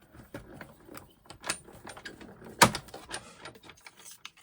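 A manual die-cutting machine works through a paper die in a run of dry mechanical clicks, creaks and ratcheting knocks, with one louder crack partway through; steady close-up handling noise, no talk.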